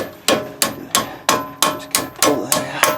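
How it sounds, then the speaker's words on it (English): A small hammer taps on a truck hub assembly during a hub replacement on a '97 Dodge Ram, striking about ten sharp metallic blows at a steady rhythm, each ringing briefly before the next, close and loud with no talking. "Got a little hammer."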